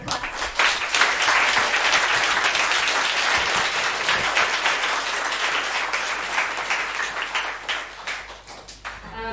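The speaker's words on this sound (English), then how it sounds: "So a big round of applause for this current class." An audience at a coding bootcamp demo day breaks into sustained applause, dense clapping that stays loud for several seconds before thinning out toward the end.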